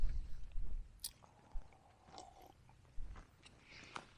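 Close, quiet chewing of food on a hiking trail, soft wet crunches and bites in an uneven rhythm with faint outdoor background.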